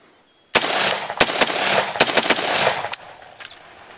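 An AR-15 rifle fitted with a Geissele SD-E trigger fires in rapid bursts outdoors, sharp loud cracks coming in quick uneven clusters after a brief quiet start, then trailing off into echoing silence.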